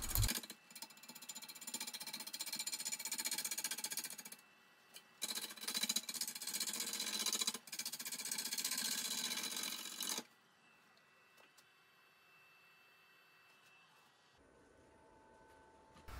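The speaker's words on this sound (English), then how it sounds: "I'm just going to use a 5/8 inch bowl gouge to rough this thing out" A 5/8 inch bowl gouge roughs out a tamarack burl spinning on a wood lathe, a loud, harsh, continuous cutting roar broken by short pauses, then dropping to a quiet motor hum.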